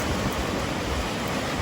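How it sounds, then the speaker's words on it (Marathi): Heavy rain pours down in a dense, steady hiss of broadband noise, loud and unbroken for the whole short stretch, with no voices over it. "तर भरपूर पाऊस आलाय"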